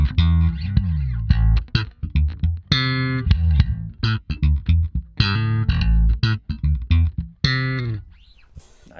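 Slap bass guitar played through an Axiom amp preset, with punchy plucked and popped notes in quick rhythmic phrases, loud and close, ending in a brief pause and a final note.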